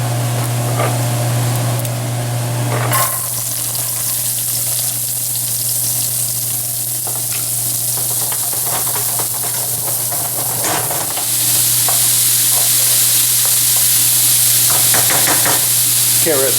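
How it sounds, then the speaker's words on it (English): Vegetables sauté in a second pan next to simmering beef barley soup, with a steady close sizzle that swells louder near the end and occasional stirring scrapes. "I'm also using a second pan"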